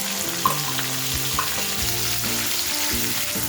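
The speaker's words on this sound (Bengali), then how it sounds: "এর মধ্যে আমি স্লাইস করে কেটে রাখা পেঁয়াজ অ্যাড করে দিচ্ছি।" Sliced onions added to hot oil with whole spices, frying with a steady, dense sizzle and crackle close up, a couple of faint clinks at the start, no voices.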